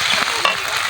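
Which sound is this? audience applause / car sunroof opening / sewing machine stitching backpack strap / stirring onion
stirring onion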